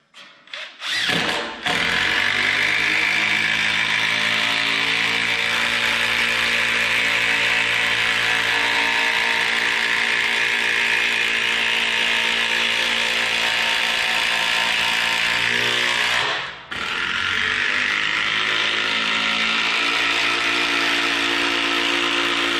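A power driver sinks a long log cabin screw into a red pine 6x6 timber, one sustained loud whirring drive of about fifteen seconds, then a brief pause and a second burst of driving, close by with no talk.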